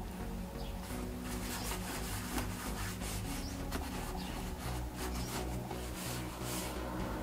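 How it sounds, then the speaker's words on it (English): A gloved hand rubs leather conditioner into a leather car door panel, giving a continuous close, soft scrubbing and rubbing sound with gentle rhythmic strokes throughout. "we'll start rubbing it with our glove to rub it all the way in the leather"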